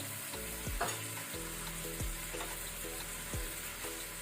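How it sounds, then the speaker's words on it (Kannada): Cut okra tipped into a hot tempering with turmeric, sizzling steadily throughout with a few sharp clinks of a spoon stirring against the pan. "ಈಗ ನಾವು ಕಟ್ ಮಾಡಿ ಕ್ಲೀನ್ ಮಾಡಿದ ಬೆಂಡೆಕಾಯಿ ಹಾಕೋಣ. ಅದರ ಜೊತೆನೆ ಅರಸಿನ ಟರ್ಮರಿಕ್,"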